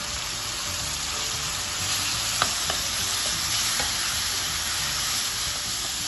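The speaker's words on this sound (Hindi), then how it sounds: "मैं चिकन को कुछ देर के लिए ना इसमें फ्राई करूँगी" Chicken seasoned with black pepper, salt, chicken cube and red chili fries in a pan, giving a steady bright sizzle with a few soft stirring knocks in the middle.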